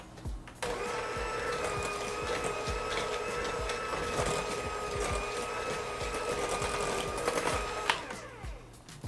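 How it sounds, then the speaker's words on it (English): Electric hand mixer beating banana bread batter in a bowl, a loud steady whine that starts abruptly and runs unbroken for several seconds with rattling against the bowl, then stops. "I think the mixer is ridiculously loud"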